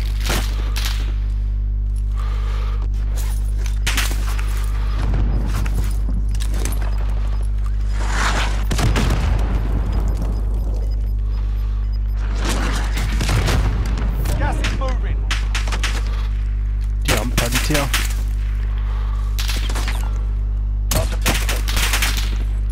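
Cluster strike explosions in a combat video game, a string of heavy booms and rapid gunfire bursts over a constant low hum, recurring throughout with occasional talk between them.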